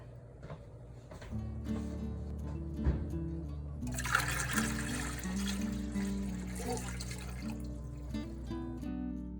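Running water pours steadily into a water bath canning pot, growing louder and splashier midway, over a constant low hum from nearby machinery.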